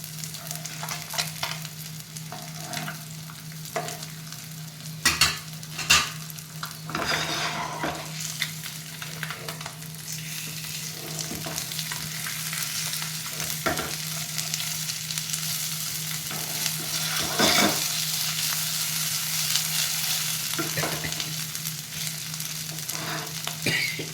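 Fish frying in oil in a home kitchen: a steady, close, bubbling sizzle with occasional clinks and scrapes of stirring, continuous and fairly loud throughout with no talking.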